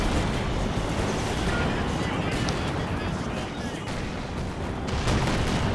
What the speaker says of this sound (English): 152 millimeter gun howitzer to start bombarding the position here